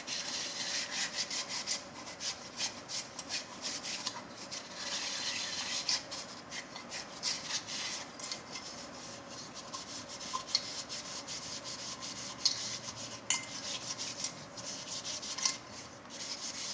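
A cooking pot being scrubbed with a scouring pad and a drop of Vim dishwashing gel, giving a steady, continuous close rubbing rasp with small irregular scrapes throughout.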